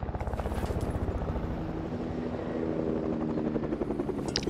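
Helicopter in a video game, a steady loud rotor chop with engine drone flying close by, continuous throughout with a pulsing rhythm.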